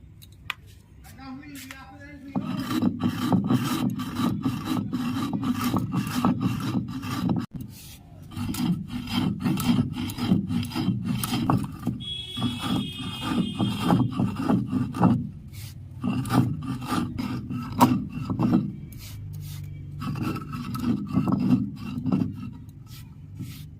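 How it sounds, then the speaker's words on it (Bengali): Sugar being ground into powder for a sweet pitha, heard as a continuous gritty rubbing and rasping that runs for most of the stretch with brief pauses, fairly close. "চিনিটা সব গুঁড়ো করে নিয়েছি।"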